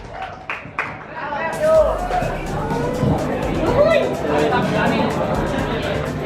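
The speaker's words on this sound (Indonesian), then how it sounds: "Tepuk tangan dulu ya." Applause and cheering greet a guest at a talk show, with clapping and crowd chatter running steadily under voices for several seconds.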